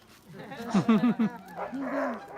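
A sled dog at Denali National Park lets out a quick run of four or five close, loud barks and yips, followed by softer whining vocalizations.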